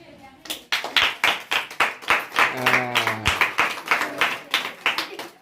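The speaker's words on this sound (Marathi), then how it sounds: "टाळ्या" A group claps in a steady rhythm at a village birthday party, close and loud, with a voice briefly rising over the clapping midway.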